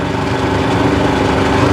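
Small engine of an Aixam Mega Van microcar, a sans-permis van, running steadily and loud close up, a coarse, unrefined drone with a buzzing tone and no pauses.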